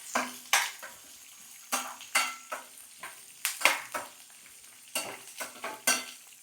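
Curry leaves fry in a pan as a tempering for pulihora, with a soft sizzle beneath repeated sharp scrapes and clinks of a spoon stirring against the metal, close and rhythmic, with no voices.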